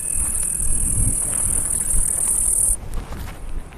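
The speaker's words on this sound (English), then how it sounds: "are those crickets I can hear?" Crickets sing in the warm open country of a Wyoming dinosaur dig, a steady high continuous trill that stops abruptly partway through, leaving wind and faint outdoor rumble.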